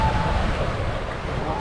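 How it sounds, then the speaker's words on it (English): Ocean waves around four feet break under a strong steady wind, heard from a sailboat as a loud, continuous roar with wind buffeting the microphone. "See, look at these waves."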